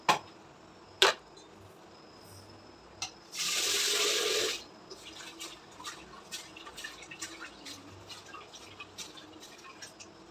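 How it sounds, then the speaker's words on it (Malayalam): Rice is washed in water at a kitchen sink: a couple of sharp knocks, then about a second of running water, followed by faint swishing and small splashes from close by. "ഈ അരി കഴുകുന്ന വെള്ളം"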